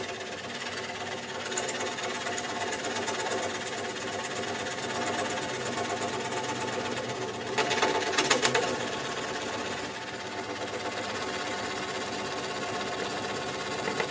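A scroll saw cuts through three stacked layers of PMMA acrylic plastic, 9 mm thick in all, with a steady fast buzzing hum and a brief louder rasp partway through, no voices.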